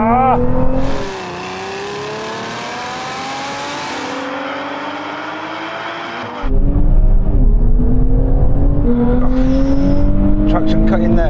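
A borrowed car launches hard in a drag race, its engine climbing steeply through rising harmonics with sharp drops at each gear shift and traction cut, loud and close, with a second roaring stretch after a brief lull.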